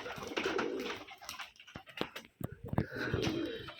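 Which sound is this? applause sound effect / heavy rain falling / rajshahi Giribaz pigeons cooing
rajshahi Giribaz pigeons cooing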